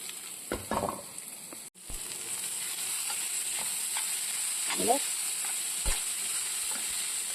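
Thoran vegetables stir-frying in a pan tempered with mustard seeds and dried red chillies, a steady sizzle throughout with a sharp clang early on and a few scrapes and taps of stirring.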